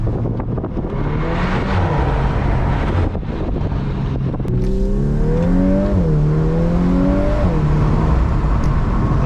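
A 2021 Volkswagen Golf R Mk8 engine drones loudly while driving on a bridge, with wind rush over it, then blips and drops through several rising and falling downshifts before settling back to a steady pull.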